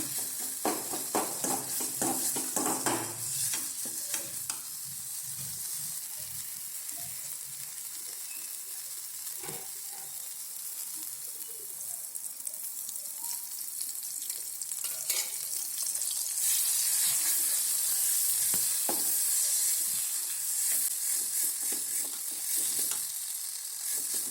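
Chili thecha sizzling and frying in a pan, a steady crackling hiss with occasional stirring scrapes, close and continuous for the whole stretch with no talk.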